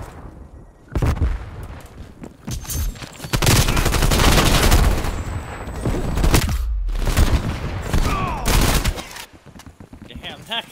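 Gunfire in a Call of Duty match, dense bursts of loud shots and booms packed across most of the stretch, with short lulls, and voices talking over it.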